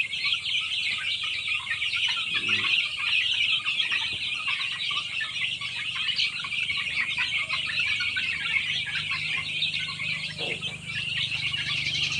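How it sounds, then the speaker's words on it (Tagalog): A dense flock of Brahma, Rhode Island Red and Cemani chickens clucks and peeps continuously, fairly loud and close, with no talking. "dami na ulit ang manok natin."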